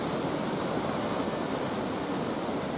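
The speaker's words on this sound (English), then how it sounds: "Listen to that wind, folks, in the trees." Strong wind of about 40 mph roars through trees at a wild camp in a steady, dense rush of noise, loud and unbroken with no voices.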